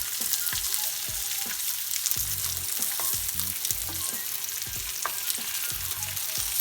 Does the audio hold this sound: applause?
no